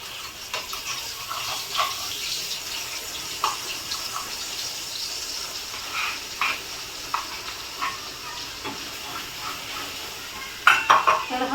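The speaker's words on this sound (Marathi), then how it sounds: "पण मी छान असा फ्राय करून घेते तिळाचा असा मस्त सुगंध येतोय" Vegetables frying with a ground sesame spice paste in a home kitchen, giving a soft, steady sizzle with light scrapes and taps of a utensil against the pan, close and mostly free of talk.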